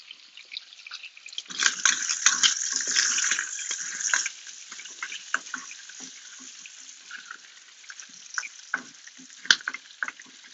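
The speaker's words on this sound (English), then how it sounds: "now this bacon in the pot here is cooking up really, really nicely" Bacon sizzles and crackles steadily in a pot on a kitchen stove, a close, bright hiss with scattered pops that swells early and then settles into a softer, even fry.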